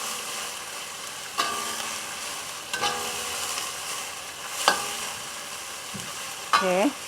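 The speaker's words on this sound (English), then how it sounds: "Stir it." Prawns and midin fern fry in a hot pan with oyster sauce to come, a steady sizzle broken by a few sharp scrapes and clanks of stirring, close and unvoiced.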